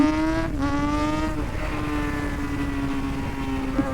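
A motorized tricycle engine drones close by with a steady buzzing tone that shifts slightly in pitch as it passes.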